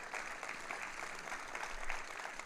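An audience at a keynote address applauds, a dense, continuous patter of clapping hands that holds steady for the whole stretch.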